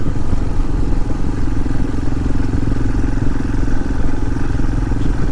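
A motorcycle ridden through a small English village heard from the rider's position: a loud, steady engine drone with constant rumble and rattle, with no change in pace and no talking.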